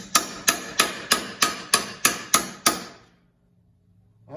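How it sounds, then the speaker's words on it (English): A regular body hammer strikes a metal panel against the curved part of a vise, eight sharp, evenly spaced metallic blows ringing close and clear, followed by quiet. "I'm just taking a regular body hammer and the curved part of my vise"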